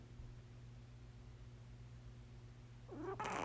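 A cat meows near the end, a short rising call after mostly quiet steady background hum, with a faint purr-like rumble underneath.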